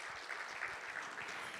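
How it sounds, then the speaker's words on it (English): A conference audience applauding to welcome a panel guest, a dense, steady wash of clapping heard from within the crowd at moderate loudness, with a little speech under it. "Big cheer."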